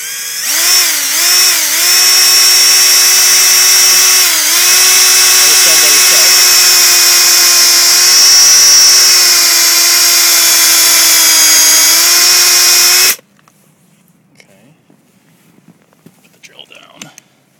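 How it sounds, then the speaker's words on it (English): A power drill whines steadily at high speed for about thirteen seconds, boring upward at an angle into a silver maple trunk, pitch dipping briefly as it bites, then cuts off to near silence with faint rustles. "we put it onto an angle that's facing upwards, and we drill into the tree"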